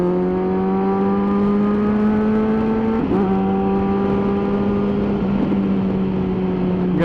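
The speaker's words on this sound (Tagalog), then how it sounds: "Grabing tong motor na to." A Kawasaki Versys 1000 SE motorcycle with auto blip and quick shifter revs loudly and close, a steady layered engine drone with a brief blip dip near the middle and no talking.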